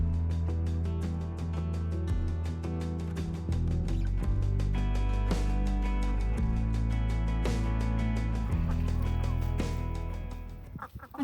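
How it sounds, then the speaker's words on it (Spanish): Hens clucking steadily in a country farmyard, a continuous overlapping chorus of close and mid-distance chatter with a few sharper squawks, no people talking. "Ya estoy oyendo ahí a las gallinas también."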